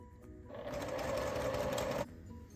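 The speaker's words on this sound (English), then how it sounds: "Use my seam tape to sew on the diagonal and then trim away." A sewing machine stitches a diagonal seam on a quilt block, a steady close whirring hum of about one and a half seconds that stops abruptly, with quiet surroundings.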